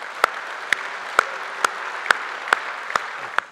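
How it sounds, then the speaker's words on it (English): Applause from an audience at an awards ceremony, heard as sharp, evenly spaced claps over a steady background hiss for a few seconds. "let's give all the finalists and tonight's category winners a massive round of applause"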